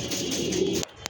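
Close, sustained cooing from a racing pigeon that has just landed on a house roof after a 35 km race, rolling on steadily before breaking off abruptly near the end, followed by a brief faint sound.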